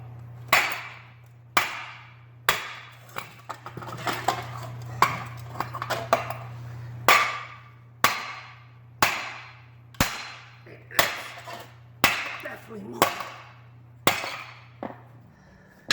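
Hammer blows on a 2004 Toyota Prius wheel bearing during repair, about fifteen sharp metallic whacks at a steady pace roughly one per second, loud and close over a constant low hum.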